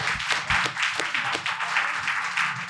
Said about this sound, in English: can I get a round of applause for our panellists?